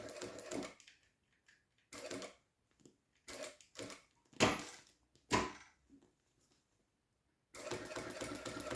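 A domestic sewing machine stitching around a PVC glasses case in short bursts of whirring needle runs separated by quiet gaps, close and moderately soft, with no talking.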